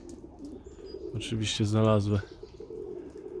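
Budapest pigeons around a loft give a loud, close, rolling coo at mid-clip among softer flutters and chirps, with someone speaking in the background.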